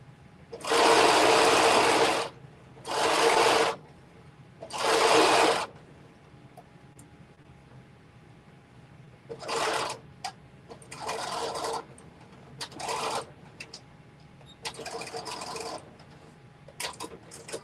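A sewing machine stitches 3/8-inch elastic into a casing in close, loud bursts: three long runs of rapid stitching, then several shorter spurts separated by pauses, with no talking.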